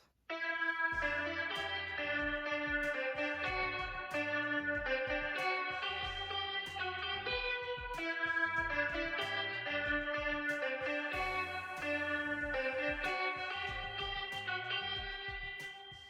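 An effected electric guitar plays a repeating melodic line with bright, sustained notes and steady picking over a continuous background.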